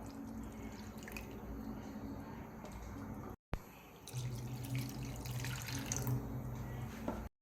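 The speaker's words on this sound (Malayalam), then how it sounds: "നമുക്ക് ഇതിലേക്ക് രണ്ട് കപ്പ് പാൽ കൂടി ചേർത്ത് കൊടുക്കാം" Milk pours into a pan of cornflour mixture for a layered pudding, a faint continuous liquid trickle and splash with a brief pause partway through.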